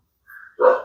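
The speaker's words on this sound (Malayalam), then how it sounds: "ഒരു പട്ടി കുരച്ചുള്ളത് അങ്ങനെയാണെന്നറിയണം" A single dog bark rings out close and fairly loud, preceded by a faint, short tonal sound, with no talking.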